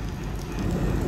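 Steady rain falls on a street in Ulhasnagar during a monsoon shower, a dense continuous hiss with low rumbling patter, fairly close and even throughout with no voices.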